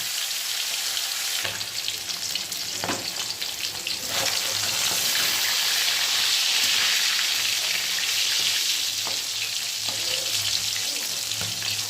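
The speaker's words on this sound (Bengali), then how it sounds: "তা তেলটা গরম হয়ে গেছে, চলো মাছটা আগে ভেজে নিই।" Rui fish pieces fry in hot oil with a dense, continuous crackling sizzle that grows louder partway through, joined by occasional clinks and scrapes, and no one speaks.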